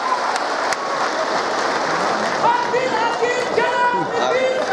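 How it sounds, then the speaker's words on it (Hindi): Loud, sustained applause from a large audience at an Urdu celebration event in a memorial hall, steady and continuous, with voices and cheering mixed in toward the end. "भरपूर तालियों के साथ हमारे महबूब रहनुमा का इस्तक़बाल।"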